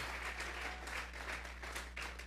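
Soft, distant applause from a church congregation clapping as an offering during a sermon, a steady patter lasting a couple of seconds with a low hum beneath.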